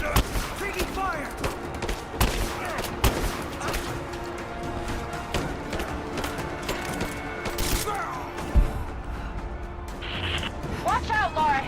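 Gunfire crackles through a Rise of the Tomb Raider battle, a dense fusillade of sharp shots and bursts under constant loud in-game talk and action clatter.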